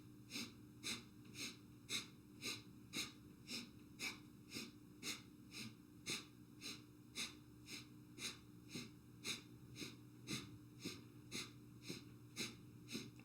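Steady rhythmic breathing in and out during kriya shoulder shrugs, the shoulders rising on each inhale and dropping on each exhale. It runs as a regular, close cycle of about two breaths per second throughout, with no talking.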